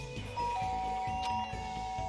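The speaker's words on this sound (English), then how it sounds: "Ding dong, ding dong." A doorbell in the video game Danganronpa 2 sounds a clear two-tone electronic chime, ringing over a low steady game music bed with no talking.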